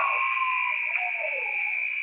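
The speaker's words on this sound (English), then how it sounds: "Shot was after the buzzer" At an ice hockey game, the end-of-game buzzer sounds as a loud, sustained electronic tone that holds steady for about two seconds, standing alone over faint arena background.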